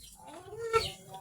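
A Rhode Island chicken lets out a short, close cluck over quiet background noise on a small farm.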